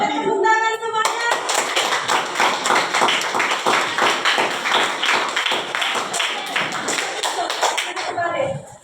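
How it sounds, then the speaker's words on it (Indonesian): Students in a classroom clapping their hands together for several seconds in a loud, rhythmic burst, with a voice speaking just before and after. "Boleh tepuk tangan semuanya."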